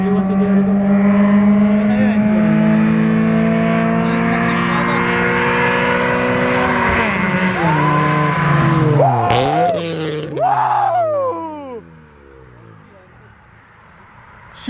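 Race between a Honda EK and a Mitsubishi Rally Art, loud engines holding steady high revs, then sweeping shifts and roars as the cars pass close and fade away. Voices can be heard over the engines.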